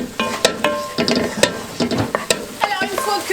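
Mushrooms, chopped bell peppers, minced garlic and onion browning together in a pan, with a close sizzle and repeated scraping stirs of a utensil in a quick, uneven rhythm, no voices.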